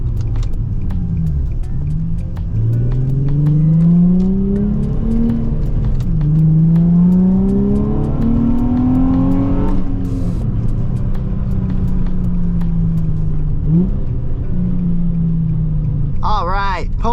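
Nissan 350Z sports car driving, its engine loud and close throughout, pitch climbing through gears in rising sweeps with brief drops between shifts, a steady low rumble under it and a short high chirp near the end.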